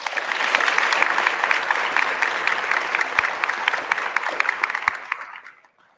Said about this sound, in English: Can we give her a round of applause, folks?